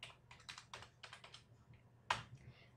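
Light clicks of a computer keyboard come in short bursts of typing while a form is filled in, with a sharper single keystroke near the end, quiet and close with no voices.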